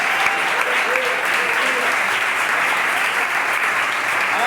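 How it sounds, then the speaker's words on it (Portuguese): A congregation at a Father's Day church service applauds loudly and steadily, with dense, sustained clapping filling the whole stretch and a few voices faintly mixed in. "vamos aplaudir a Deus pela vida dos pais"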